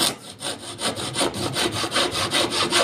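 A Husky hand saw cuts through wood in quick, even back-and-forth strokes, loud and close, with a steady rasping rhythm and no talking.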